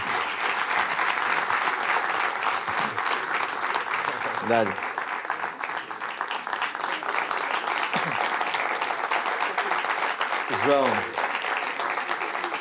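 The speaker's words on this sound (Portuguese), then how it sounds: "Uma salva de palmas para o Newton." A television comedy show audience applauds with sustained, dense clapping that continues throughout, while a voice briefly calls out over the crowd.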